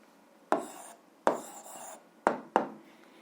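A hand writing an answer on paper during an algebra lesson: four short, crisp scratching strokes spaced irregularly apart, close and fairly quiet against near silence, with no voices.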